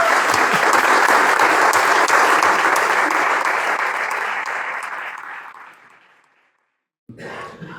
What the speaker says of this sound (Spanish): yo pido un aplauso para Jorge